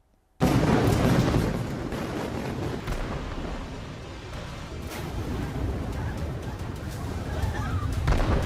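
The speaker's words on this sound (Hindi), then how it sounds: "नेतन्याहू ने एक बार फिर बेरूत पर भारी बमबारी करके बड़ा झटका दे दिया है" Heavy bombing of Beirut produces a loud, continuous roar of rumbling blasts and booms that stays dense throughout, with voices faintly mixed in.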